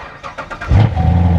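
A C7 Corvette engine with an aftermarket exhaust cranks briefly, then catches and settles into a deep, loud, throaty idle rumble close by.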